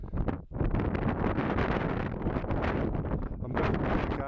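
Strong wind buffets the microphone on a hilltop at Ard Crags, a loud continuous roaring rush with brief dips between gusts and no talk.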